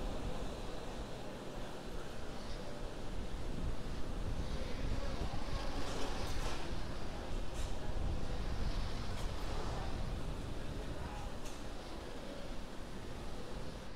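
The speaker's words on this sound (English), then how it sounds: "the 9 Merlin 1D engine is going back to full power" A deep, steady roar of a SpaceX rocket's nine Merlin 1D engines at full power during a supersonic launch, broad and rumbling with a windy, distant quality that stays constant throughout.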